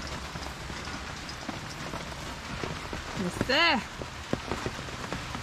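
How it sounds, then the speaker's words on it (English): Steady rain falls outdoors during cooking in Jamaica, a dense close patter on surfaces throughout, with a voice briefly calling out partway through. "The rain water is cold."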